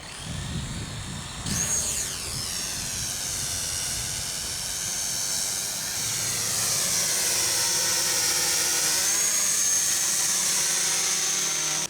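A cheap Contixo toy drone flies close by, its small motors giving a loud, steady high-pitched whine that rises and wavers in pitch as it hovers unsteadily, with no talking.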